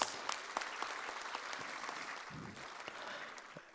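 Applause from the audience at the closing ceremony of a world congress on disaster management, a fairly faint and even patter of clapping heard at a distance, with no talk over it.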